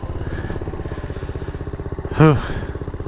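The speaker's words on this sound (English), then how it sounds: "It's funny having to counter steer a motorcycle. 52-year-old one at that" A 52-year-old vintage Honda motorcycle ridden off road, its small engine chugging in a steady, rapid low thrum close by, with a rider's voice breaking in briefly partway through.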